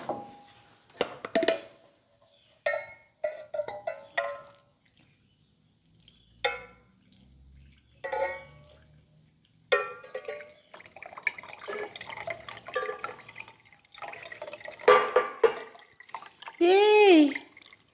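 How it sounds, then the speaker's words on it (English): Water is poured onto freshly transplanted houseplants (philodendrons, arrowhead plant and ficus) in fresh soil, giving scattered splashes and drips in short bursts over about eighteen seconds, with quiet voices in between. "now we're gonna water quickly"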